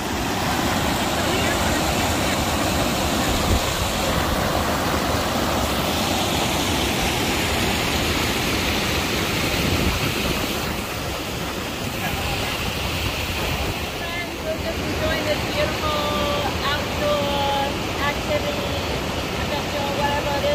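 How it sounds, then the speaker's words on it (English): Water rushes down steadily at Baker Dam, a broad, continuous roar with wind buffeting the microphone, loud and unbroken for the whole stretch, with faint voices underneath. "look at that, the water just rushed down"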